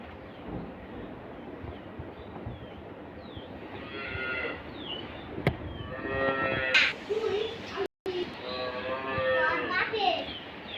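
Holstein Friesian dairy cows on a model dairy farm low in a few long, loud moos, with people and someone talking around them in a barn setting.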